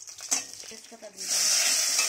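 Bay leaves dropped into hot oil for a cauliflower dalna, a brief clatter followed by a loud, close, rising hiss that holds steady to the end.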